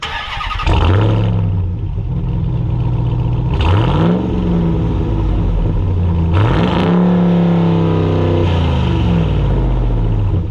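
Close and loud, a Ram TRX Hellcat-powered supercharged pickup snarls through its big rear exhaust in four hard revs. Each rev climbs sharply and then falls back to a rumbling idle, with no talking.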